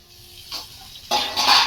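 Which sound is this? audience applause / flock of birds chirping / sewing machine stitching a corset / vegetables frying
vegetables frying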